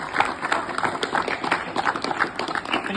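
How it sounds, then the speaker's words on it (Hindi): Audience applause at a school event, clapping for four girl guests: a brief, moderately loud patter of many hands with uneven rhythm, fairly close. "तो इनके लिए भी ताली बजाएं एक बार"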